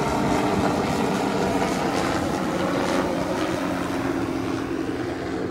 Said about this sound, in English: There goes one of our spray helicopters up there.